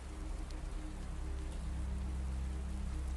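Steady rain falling continuously, a soft even hiss of drops on surfaces with no voices or other sounds.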